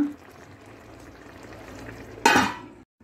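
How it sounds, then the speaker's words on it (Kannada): Thick masala gravy for paneer masala bubbles softly in a pan with a low simmering sizzle, then a single loud scrape or clatter near the end before it cuts off. "ಈಗ ಇದನ್ನು ಸ್ವಲ್ಪ ಇದು ಎಳಿಲಿಕ್ಕೆ, ಮಸಾಲೆ ಎಳಿಲಿಕ್ಕೆ 1-2 ನಿಮಿಷಗಳ ಕಾಲ ಕುದಿಸಲು ಬಿಡೋಣ"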